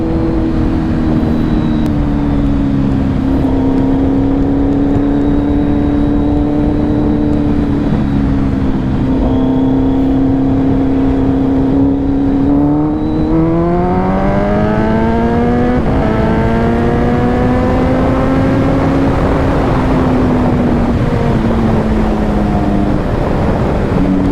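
Kawasaki Z900 motorcycle fitted with a LeoVince full exhaust, the engine droning loudly and revving up and down through gears in a continuous ride, with rising pitch sweeps and no talking.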